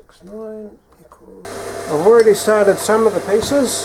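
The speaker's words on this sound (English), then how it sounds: "You can hear the bandsaw in the background working on more of them." A bandsaw runs in a metal fabrication shop while countershaft parts are cut, a steady machine hum that starts partway through and continues under someone speaking close by.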